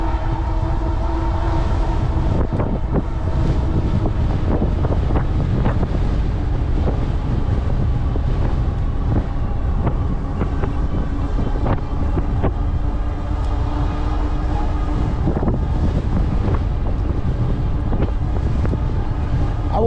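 Heavy wind roars and buffets the microphone throughout an e-bike ride, a loud, dense rumble with gusty surges and faint mechanical rattles.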